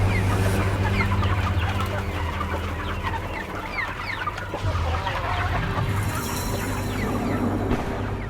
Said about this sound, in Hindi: अरे ये मुर्गियां!